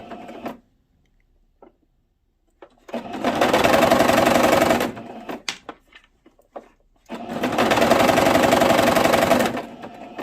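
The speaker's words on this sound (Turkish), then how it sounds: "bu devreyi komple dikiyorum" A sewing machine stitches a children's skirt in two loud, steady bursts of rapid mechanical whirring, separated by short quiet pauses with faint handling noises.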